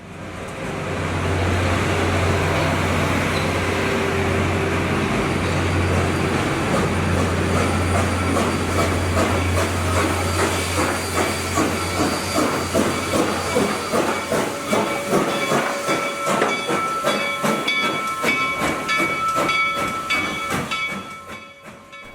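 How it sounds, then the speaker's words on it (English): A loud 4-8-4 Northern steam locomotive rolls backward into a station close by with hissing steam, rumbling wheels and rhythmic clanking that grows sharper and more metallic toward the end. "Here comes the train into the station backward"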